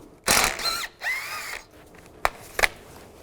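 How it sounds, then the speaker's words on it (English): A 12mm socket on a ratchet backs out a radiator bracket bolt on a 2005-2015 Nissan Xterra, giving a few short close bursts of whirring and clicking followed by two sharp taps. "Use a 12mm socket, take this bolt out."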